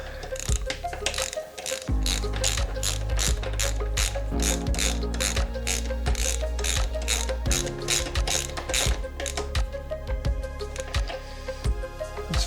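A hand ratchet clicks in a fast, steady run of close, loud pawl ticks while a bolt on a Honda Monkey luggage rack is tightened, with brief pauses between bursts and no talking.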